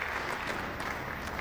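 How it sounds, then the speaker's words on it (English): Crowd applauding at a tenpin bowling masters match, a dense steady wash of clapping throughout at moderate level. "Enthusiastic support and applause."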